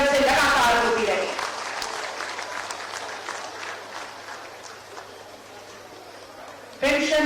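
Crowd applause at an outdoor pension benefits ceremony in a village, with a chief minister handing out sanction letters: loud clapping at first that thins into scattered claps under a background hum and brief talk, then a fresh burst at the end.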